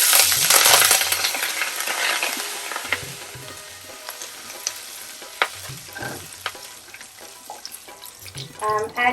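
Curry leaves crackle in hot oil with dry red chilies over a low flame, a bright hissing sizzle that is loud at first, then settles under sharp spattering pops and metallic clinks of a spoon.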